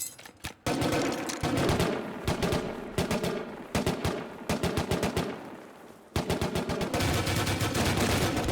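Gunfire in the video game Rust, rapid bursts of automatic shots in several volleys with brief gaps between them, loud and close.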